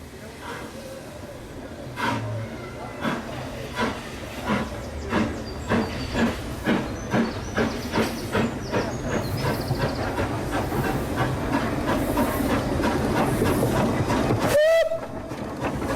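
An early-1870s Beyer Peacock 2-4-0 steam locomotive on the Isle of Man Railway chuffs with a steady, quickening rhythm of sharp exhaust beats and hissing steam, ending in a short whistle near the end.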